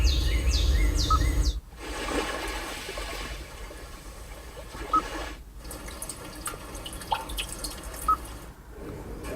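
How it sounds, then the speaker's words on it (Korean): A forest nature-sound ambience played through a 2020 Kia K7 Premier Hybrid's audio system: trickling water and drips, scattered chirping birds, and a soft background rush, with brief dropouts between segments. "이번 K7 프리미어에는 이 자연의 소리라고 ASMR 비슷한 소리가 들어갔는데 이게 생기 넘치는 숲이고요"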